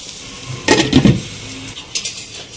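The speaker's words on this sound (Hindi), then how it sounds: "और अब इस चिकन के साथ इस पेस्ट को डाल के हम थोड़ी देर पकाएंगे।" Chicken with green chili paste cooking in a karahi pot: a spoon scrapes and clinks against the metal in a short burst of stirring over a faint sizzle, close by.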